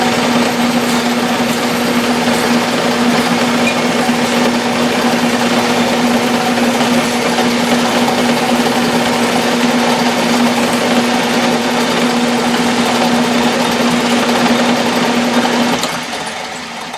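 A lathe drives a 5/16 reamer through a hole drilled 19/64 inch and 1/4 inch deep, giving a steady, loud motor whine with a constant hum that runs unbroken and then drops off abruptly near the end.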